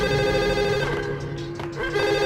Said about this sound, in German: Wo ist das Telefon?